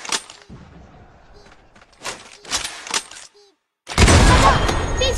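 In CrossFire Mobile, a sharp series of gunshots cracks out, then a brief silence before a loud grenade explosion bursts and rumbles on to the end.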